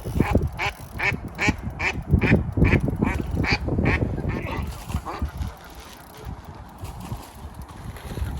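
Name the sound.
bird caught on fishing line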